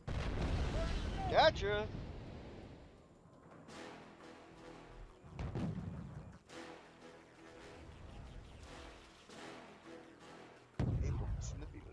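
Artillery stopping-fire barrage in the Wargame: Red Dragon strategy game, heard as several heavy low booms and rumbling impacts rolling in at intervals, with a brief voice near the start.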